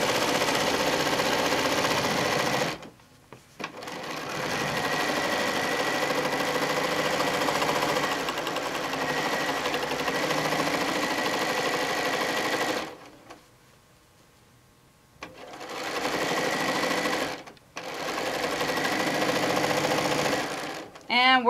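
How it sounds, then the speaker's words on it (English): Sewing machine stitching down a quilt block with ruler work, loud continuous rapid whirring in long runs, stopping briefly a few times, with talk during the pauses. "And we're going to stitch down."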